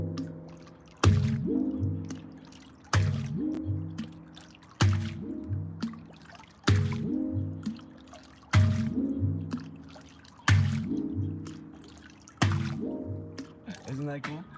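An empty hollow object dropped repeatedly into water, seven separate splashy plops at roughly two-second intervals, each followed by a ringing, resonant bubbling gurgle that fades before the next drop.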